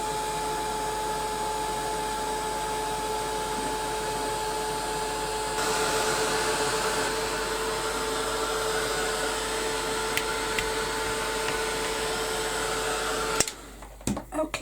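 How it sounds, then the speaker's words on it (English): A heat gun blows hot air over a painted autumn-leaves canvas to dry it, a loud steady whooshing hum with a constant tone that runs unbroken for about thirteen seconds, then cuts off into a few faint clicks and handling sounds. "So I'll give that a quick blast with my heat gun. To make sure it's all dry."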